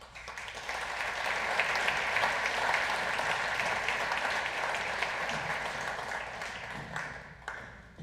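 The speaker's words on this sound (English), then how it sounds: "Let's give our teams another round of applause." Sustained audience applause at an FFA banquet, a full room clapping steadily for several seconds, swelling and then tapering off with a few last claps.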